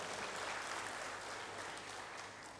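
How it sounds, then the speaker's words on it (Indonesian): A church congregation claps during a sermon, a faint but continuous wash of many hands applauding together, easing slightly at the end. "Berikan tepuk tangan bagi Tuhan"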